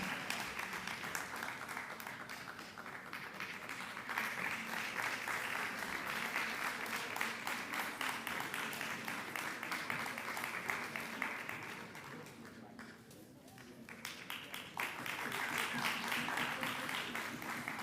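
A large audience keeps up continuous applause at a public sector debate competition final in Jamaica, dense clapping from many hands at moderate distance, dipping briefly before swelling again.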